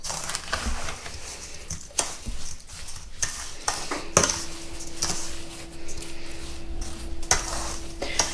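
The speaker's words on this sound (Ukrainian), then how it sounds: "Засипала я полуницю цукром і ось так легенько перемішаю." Sliced strawberries coated in sugar are gently stirred in a bowl for strawberry jam, giving soft scraping and clinking of a utensil against the dish, with a few sharper knocks, quiet and close.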